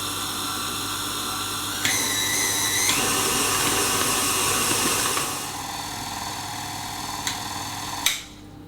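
An electric mixer whirs steadily and close as it beats Victoria sponge cake batter, its pitch shifting as the load changes, before stopping with a small knock near the end.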